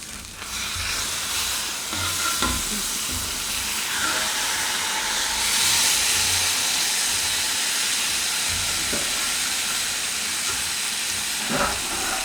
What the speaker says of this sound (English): what I'm going to do right now is flip my chicken